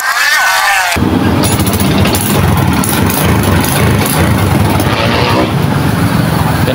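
A Honda XRM125 motorcycle engine with a carburetor fault causing low power and poor revving starts up and runs loudly and steadily close by, with a rough, rising roar and no talking.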